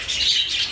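Young birds in an aviary flight chirp together in a brief, steady high-pitched twittering, close by and without speech.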